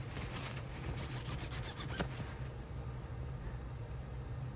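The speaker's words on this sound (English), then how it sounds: "A little bit of scrubbing on them and they'll be beauty." Anodized metal knife blades are scrubbed by hand, giving a faint, steady rubbing rasp with quick repeated strokes early on and a single sharper scrape, and no talk.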